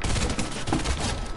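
Dense burst of gunfire in a video game, continuous loud crackling shots filling a short moment with no pause.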